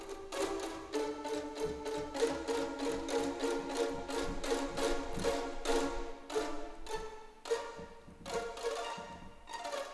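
Violin section from a sampled strings library plays Bartok pizzicato, strings snapping sharply against the fingerboard in a fast, uneven series of percussive plucks, fairly quiet and without speech.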